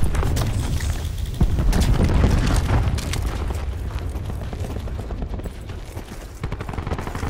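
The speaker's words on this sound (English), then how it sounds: "Throwing cluster grenade." A cluster grenade goes off in Call of Duty: Black Ops 4, setting off a loud, continuous barrage of rumbling booms and crackling blasts that lasts the whole stretch, close and heavy, with no voices.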